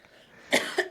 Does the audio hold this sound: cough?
yes